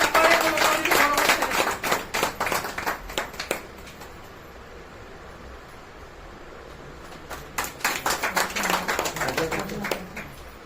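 At a felicitation for the new district president of an SC and ST government employees' association, the audience claps in two bursts of quick, scattered clapping separated by a few quiet seconds of room tone.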